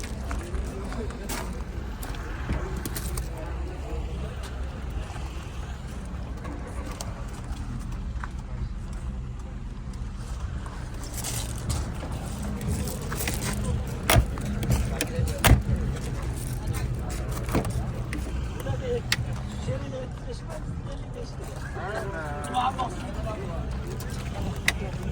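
A fuel-injected car fitted with a propane gas cylinder runs steadily at an outdoor car market in Samarkand, its engine a low continuous rumble under someone talking throughout, with occasional clicks and knocks.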